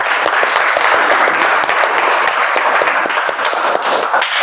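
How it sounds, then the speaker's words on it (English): Loud, close applause from a meeting audience, brisk continuous clapping for the speakers that holds steady for a few seconds. "Can we have a round of applause for all of them?"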